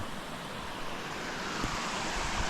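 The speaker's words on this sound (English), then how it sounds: "So much water's flowing down through there though." A swollen mountain stream rushes heavily over rocks after rain. The roar is steady and broadband, close and constant throughout, with no talking.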